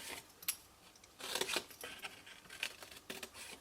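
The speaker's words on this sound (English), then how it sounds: "let's grab a pair of scissors and cut away little pieces of them" Quiet, close scissor snips cutting paper for a hanging orb Christmas decoration, a handful of short crisp cuts spaced irregularly.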